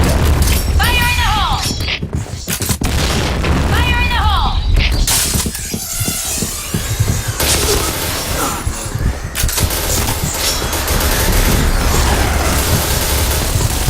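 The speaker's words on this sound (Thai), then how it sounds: "Fire in the hole! ระเบิดระเบิด" Loud, dense combat in the video game PB: booming grenade blasts and clattering gunfire fill the mix, with shouting voices over the noisy action.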